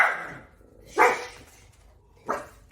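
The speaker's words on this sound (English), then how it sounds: "Apologize for my dogs wanting to join in." Dogs barking three times at spaced intervals during a workout session, each bark loud and close, with quieter gaps between.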